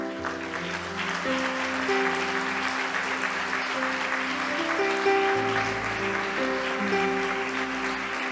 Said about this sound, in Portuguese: eu quero que a igreja aplaude o Senhor pela vida de vocês